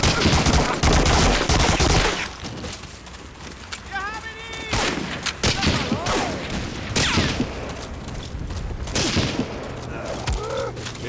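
French guns fire in the World War II shooter Medal of Honor Warchest, with a heavy opening barrage followed by scattered sharp shots and bursts, while a player's voice comes through.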